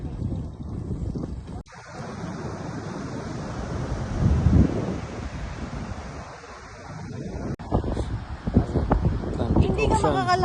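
Wind-blown Atlantic Ocean surf off the Irish coast rolls in broad, rising and falling washes, heavy gusts buffeting the microphone, with people talking intermittently over it.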